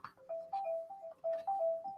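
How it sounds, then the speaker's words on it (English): Phone ringing nearby, a repeating electronic ringtone melody of short bright tones in quick patterned bursts, fairly faint and heard alone. "There is something ringing"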